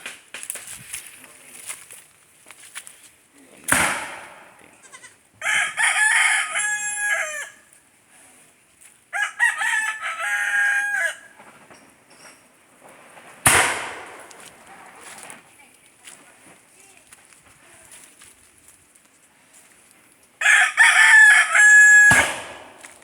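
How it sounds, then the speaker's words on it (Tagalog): Roosters crow on a farm in loud, drawn-out bursts separated by quieter stretches, with scattered clucking and a few sharp knocks in between. "Ating mga manok."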